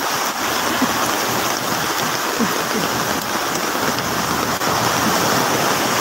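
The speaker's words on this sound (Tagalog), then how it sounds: "Lakas ng alon." Strong floodwater surging down a street in Spain, a loud, continuous rushing roar of churning water that fills the whole clip steadily and close by, with no pauses or talk over it.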